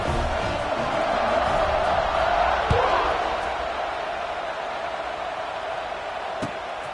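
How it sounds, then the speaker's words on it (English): A football stadium crowd buzzes after a touchdown, a steady broad roar of many voices that swells slightly midway, with a few sharp thuds standing out. "this crowd is buzzing after that last score"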